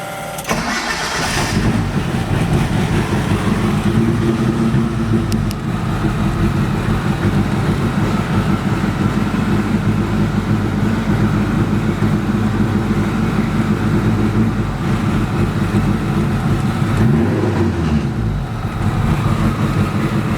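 A car with a 4G63 engine starts and settles into a steady, loud idle that rumbles on evenly, close by, without voices.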